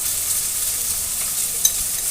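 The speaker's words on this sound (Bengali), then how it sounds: "সেই মাছ ভাজার কেমন শব্দ হচ্ছে দেখো" Fish frying on the neighbouring stove burner gives a steady, hissing sizzle throughout, with a faint crackle near the end and no voices.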